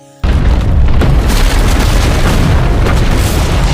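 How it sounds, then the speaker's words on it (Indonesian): A bomb planted in a floor detonates in an action film scene, a sudden loud boom after a brief near-silence, followed by a sustained roaring rumble and debris noise that stays loud to the end. "Bom yang ditanam di lantai meledak dan mereka semua tewas dalam kejadian itu."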